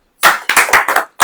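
A church congregation claps hands in a short burst of about six sharp, loud claps in an uneven rhythm, with brief pauses between groups and no speech.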